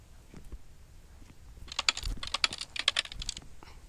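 A computer keyboard is smashed apart in the Wheel Smash video game, heard as a quick flurry of sharp clacking key clicks that grows denser and louder midway, over a quiet low rumble.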